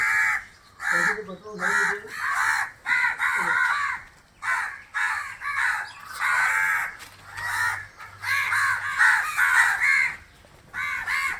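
Crows caw loudly and repeatedly in overlapping bursts, close by, with brief pauses between the calls.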